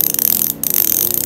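A freewheeling thread-type bicycle cog/sprocket, modified to be louder, gives off a fast, continuous ratcheting buzz up close, with a brief dip in the middle.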